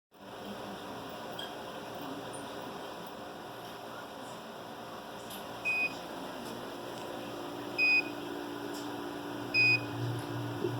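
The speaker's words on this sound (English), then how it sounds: "This is the probe of our coordinate measuring machine, also known as a CMM. It's probing the link that we spoke about earlier." A coordinate measuring machine probes a drag link in a manufacturing inspection room; a steady mechanical hum runs throughout, broken by three short, sharp electronic beeps spaced a couple of seconds apart as the probe touches the part.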